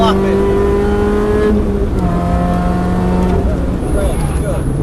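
A car engine holds a loud, steady drone at high revs on a Cadwell track day, with a brief shift in pitch partway through and a voice talking over it.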